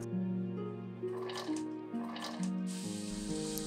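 A steady low hum gives way near the end to a sudden bright sizzling hiss as chopped onion hits hot oil with butter and keeps crackling.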